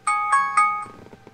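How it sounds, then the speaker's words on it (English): A telephone rings indoors with three bright electronic tones in quick succession, each fading, followed by faint softer clatter. "And there's the phone."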